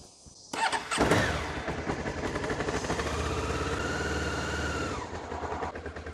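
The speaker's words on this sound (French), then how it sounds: "Ensuite, on démarre le moteur." A Honda CB500 PC32 motorcycle cranks briefly, catches and settles into a steady idle, close and loud, the revs easing down before the engine note drops away near the end.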